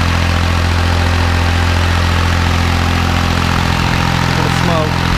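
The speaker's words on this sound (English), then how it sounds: "so you feel a little bit of struggle on the motor there, but it's handling it" Kubota B7100 tractor engine turning a NorthStar PTO generator at about half its 7,200-watt load, a steady loud diesel drone with a constant low hum and slight strain running throughout, no speech over it.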